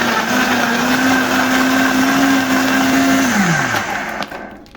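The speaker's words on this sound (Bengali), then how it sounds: "এখন ব্লেন্ডার দিয়ে আমি এখন ব্লেন্ড করে নিব।" A blender blends mango juice with ice in a loud, steady motor whine that holds for a few seconds, then drops in pitch and winds down as it switches off.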